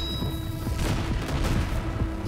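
Gunfire in the Terminator Zero animated show, a short burst of sharp repeated shots and booms packed close together over a few seconds.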